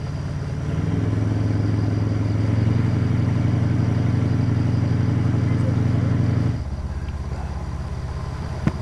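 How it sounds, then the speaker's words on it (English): A boat engine revs at its moorings with a loud, steady low rumble that holds for several seconds, then drops abruptly to a lower idle drone. "The revving engine soon sees to that."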